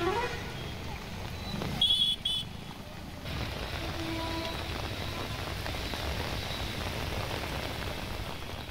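Heavy rain pours steadily over Hyderabad, a dense, even hiss of drops striking the surfaces. A brief louder patch comes near the start, then the downpour continues unbroken and fairly close.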